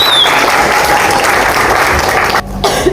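An audience claps steadily for a university team that built an electric car, a dense, loud burst of applause sustained throughout, with a brief dip near the end.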